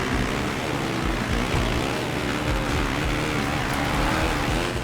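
A KTM motocross bike engine revs in the MXGP 2 racing game, a continuous buzzing drone that rises and falls slightly as the bike accelerates, steady and fairly loud with no talk.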